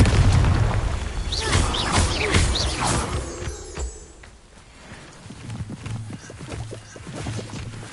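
A fiery Confringo spell blast in the video game Hogwarts Legacy: loud booming bursts crowd the first few seconds, then fade into a quieter, crackling rumble with scattered smaller pops.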